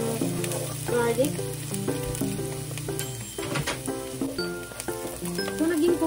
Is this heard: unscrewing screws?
no